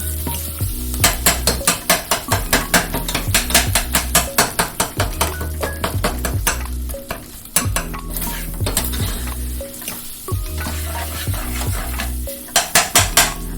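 A utensil beats rapidly against a pan holding sausage fat and roux for gravy, a dense run of quick metallic clinks over a frying hiss, with pauses between bursts and low music underneath.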